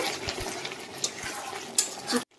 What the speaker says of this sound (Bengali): আমি চিকেনটাকে একবার নাড়িয়ে চাড়িয়ে নেব